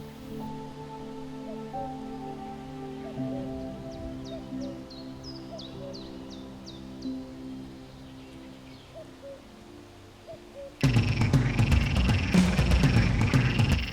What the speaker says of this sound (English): Male green frogs battle not only with loud croaks, but also by wrestling.